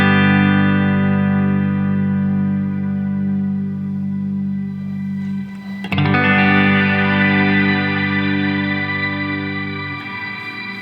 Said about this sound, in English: shimmer is a reverb with an octave up added to the reverb tails generally